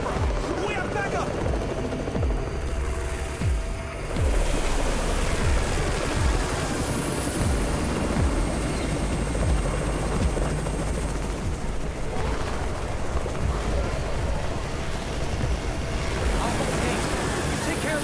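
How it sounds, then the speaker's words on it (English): A helicopter arrives in the zombie survival video game Undawn, its rotor beat chopping steadily through the whole stretch under dense game noise that sounds like gunfire. "It's the Raven's chopper! We have backup!"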